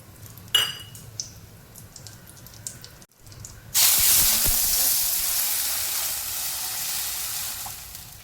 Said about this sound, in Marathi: तूप टाकते, खडे मसाले टाकून घेऊया